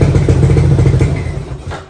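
A Yamaha Crypton 135 motorcycle engine, tuned with modified parts, runs with a close, loud, rapid thumping putter right after a kick start, then slows and fades.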